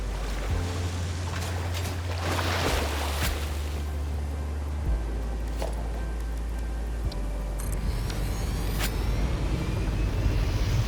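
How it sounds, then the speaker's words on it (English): Steady rushing wash of a waterfall in Satisfactory, a broad, even roar with a low hum beneath and a few faint knocks and clicks scattered on top. "There's a waterfall. You gotta check it out."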